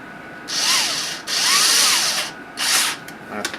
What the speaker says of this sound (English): And screw it down. It's two little screws.